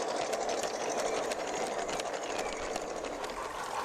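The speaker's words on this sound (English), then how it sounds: "a heavily modified LGB toy train diesel loco No. 20 Robert bustles in with a loaded up sand train." A heavily modified LGB toy diesel locomotive hauls a loaded sand train on a garden railway, giving a steady close whirring hum with faint rapid clicking throughout.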